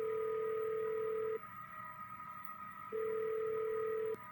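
Phone in the Nancy Drew video game ringing through on a call: a steady two-part ring tone sounds, pauses, then sounds again, loud and clean with no talk.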